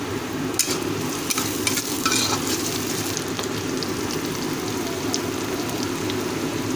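Onion and spice masala with turmeric, cumin and chili powder fries in a pan while being stirred, a loud continuous rain-like sizzle with scraping spoon strokes and occasional sharp crackles, close up and without speech.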